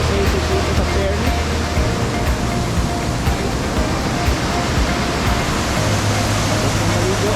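Fairy Creek Falls in Fernie, British Columbia, Canada, pours in a steady, broad rushing roar that fills the scene without pause, with faint voices underneath.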